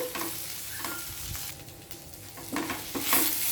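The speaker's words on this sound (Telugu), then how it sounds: "ఇలా కలుపుకుంటూ ఇంకొక నిమిషం ఫ్రై చేసుకుంటే సరిపోతుంది" Eggplant fry for a Telugu vankaya vepudu is stirred in a pan with a little oil: a steady low sizzle with repeated scraping strokes of the spoon, close by and alone.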